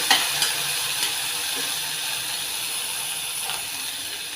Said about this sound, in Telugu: ఈ పెసరపప్పు తాలింపులో వేగాలి